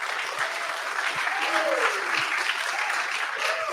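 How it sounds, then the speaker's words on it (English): An audience claps steadily for a speaker at a community event in Buda, Texas, a dense sustained round of applause heard throughout with a few faint voices mixed in. "Let's give a warm round of applause to Dale Brown."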